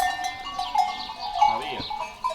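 Lasón goats on a farm bleat in a few wavering calls at moderate distance, with faint voices and farmyard noise in the background.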